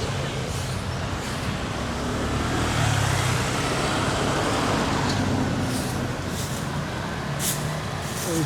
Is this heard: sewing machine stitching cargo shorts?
no